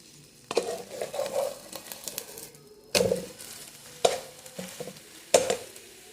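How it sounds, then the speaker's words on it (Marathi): An omelette frying in a pan as oil is poured around its edge, with a soft sizzle under repeated loud clinks and scrapes of a spatula against the pan. "साईडनं असं तेल सोडून घ्यायचं आहे, म्हणजे छान उलटतं आमलेट"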